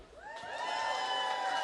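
A party crowd at a young Hollywood honorees event cheers and whoops, a rising swell of high shouting voices and scattered claps that builds and holds for a moment.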